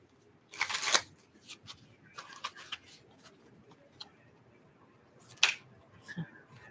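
A deck of tarot cards is shuffled nearby: a sharp riffling burst, scattered soft card taps, then a second quick riffle.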